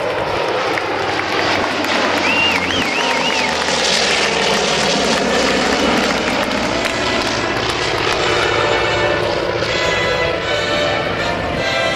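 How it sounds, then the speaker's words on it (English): US Navy tailhook legacy flight aircraft making their first pass at the 2012 Cleveland National Air Show, a loud sustained engine roar filling the whole stretch, with a faint whistle-like tone near the start. "this is the first pass of the United States Navy's tailhook legacy flight"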